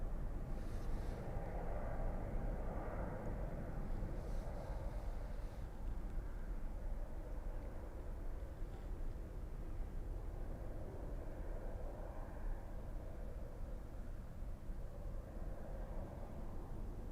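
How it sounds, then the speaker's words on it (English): Airbus A330 landing on short final at Zurich, a faint, steady broad jet rumble that holds evenly at a distance throughout. "so we have the A330 on short final"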